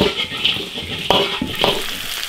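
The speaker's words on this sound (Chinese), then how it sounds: "把它炒均匀就行了" Potatoes seasoned with pepper, cumin, chili powder and sesame oil are stir-fried in an iron wok, a steady close sizzle with a few metallic scrapes and stirring knocks.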